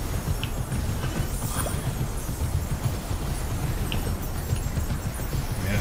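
Horse hooves clip-clopping steadily in the action game Immortals Fenix Rising as a character rides across the land, a continuous rhythmic trot at moderate level with no talking.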